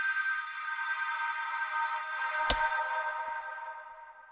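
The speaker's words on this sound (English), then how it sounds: "Then I added a atmospheric synth, which sounds like this." An atmospheric synth built from a granulated sample forms a hazy, sustained wash of bright tones for an electronic track, with a single sharp click partway through before the pad slowly thins out.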